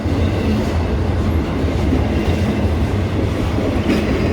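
A train slows as it rolls through Westmont, Illinois, a loud, close, continuous rumble of wheels and railcars with faint rhythmic clatter throughout.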